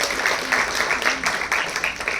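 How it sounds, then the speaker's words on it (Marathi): A school audience applauds to welcome the chairman of the school committee at a website inauguration ceremony. The clapping is dense and steady, filling the whole stretch without a break. "जोरदार टाळ्या वाजवून आपण त्यांचं स्वागत करूया."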